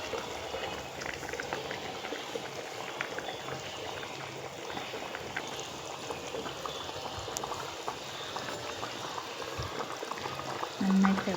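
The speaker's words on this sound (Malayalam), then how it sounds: "നന്നായിട്ട് തിളച്ചിട്ടുണ്ട്." Fish curry boils steadily in a covered pot, a continuous close bubbling and simmering hiss running throughout with a brief louder burble near the end.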